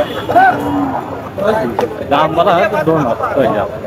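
Cattle at a busy cattle market in Chuadanga, with moos and low lowing mixed into close, loud crowd chatter and bargaining voices throughout.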